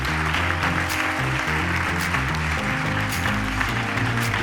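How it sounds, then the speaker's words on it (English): Applause at a conference closing session as two people are called up on stage, with the clapping partly buried under loud music playing over it. "Please join me to applaud them."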